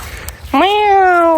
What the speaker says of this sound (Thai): แมวคุณตาสองสามตัวบนนี้นะ